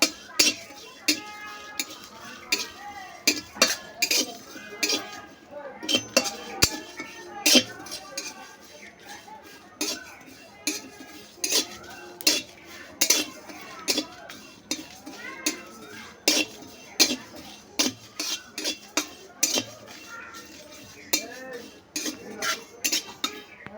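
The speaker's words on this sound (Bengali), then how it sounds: "যেহেতু আমি মশলা দিয়েই আজ আমি আম সত্ত্ব বানাবো সেই জন্য একটু মশলা ভেজে নেব" Spices dry-frying in a pan for homemade raw-mango aamsotto, stirred with a metal utensil that clinks and scrapes against the pan in a steady, repeated rhythm for a long stretch, with no one talking.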